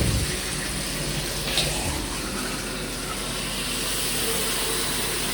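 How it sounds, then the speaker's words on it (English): A leaking shower runs with a steady, loud rush of water that continues unbroken, heard close up with no one talking. "This is the shower."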